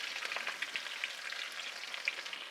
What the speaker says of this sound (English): Now in the same oil, we put in our celery and our onion